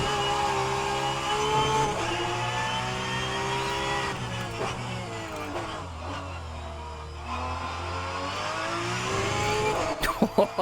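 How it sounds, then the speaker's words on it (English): A Porsche 992 in rFactor 2 at Laguna Seca lighting up its rear tyres, a steady engine drone whose pitch sags and climbs under load, with a few sharp clicks near the end. "I lit up the rear tyres then."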